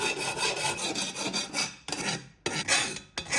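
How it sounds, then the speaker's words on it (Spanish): Metal file rasping burrs off freshly cut metal legs for a homemade pellet and wood stove, steady back-and-forth strokes in close repeated passes with two brief pauses. "Vamos a eliminar las rebabas."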